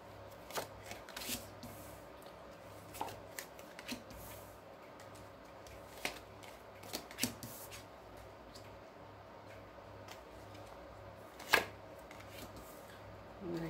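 Tarot cards shuffled and drawn for a Scorpio reading: a quiet run of soft, scattered card riffles, slides and flicks near the microphone, with one sharper snap toward the end and a faint hum beneath.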